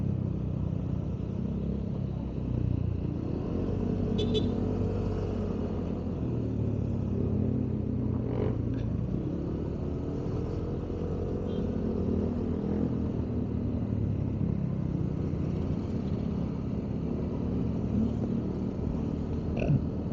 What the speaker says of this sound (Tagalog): merong open muffler dito nakasunod